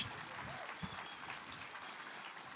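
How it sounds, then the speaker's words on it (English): Applause from an audience at an outdoor bandstand concert at the Bethany Beach CelloFest, a steady wash of clapping at moderate distance, filling the short moment without a break. "give her a round of applause, would you?"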